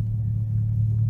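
Chrysler 300 with a 3.6 Pentastar V6 and aftermarket intake and exhaust driving, a steady loud low engine drone with a strong hum and rumble heard throughout.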